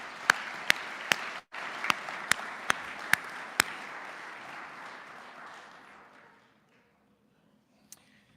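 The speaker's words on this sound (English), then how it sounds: "let's give them a round of applause" A room applauds the staff at a Veterans Day ceremony, a steady wash of clapping with a few sharp louder claps near the front, fading out to near silence.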